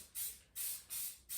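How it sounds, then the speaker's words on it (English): A spray paint can hisses in four short, even bursts with brief pauses between them, close and fairly quiet. "I just don't want to do a ton of spraying here."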